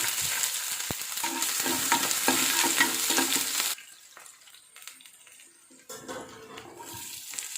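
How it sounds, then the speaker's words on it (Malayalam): Mustard seeds, cumin, ginger and garlic hit hot oil for a Kerala-style palak curry, giving a loud, dense crackling sizzle for about half the clip before dropping to a quieter, patchy spitting with occasional stirring clinks. "എണ്ണ നന്നായി ചൂടായിട്ടുണ്ട്. അതിലേക്ക് നമുക്ക് കുറച്ച് കടുക് ഇട്ട് കൊടുക്കുന്നുണ്ട്, കുറച്ച് ജീരകം, ഇനിയും ഇഞ്ചി, വെളുത്തുള്ളി, കാന്താരി,"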